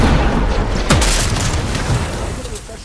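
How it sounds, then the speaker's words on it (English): A shockwave grenade going off in Fortnite, one sharp booming blast with a quick sweeping whoosh, loud and close over a constant noisy game backdrop. "Items every true Fortnite Champion Series, the shockwave grenade."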